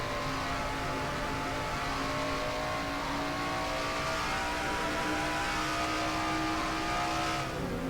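Race cars in a stock-car racing video game power out of turn four, engines whining and revving loud and continuous, several cars blending into one sustained drone.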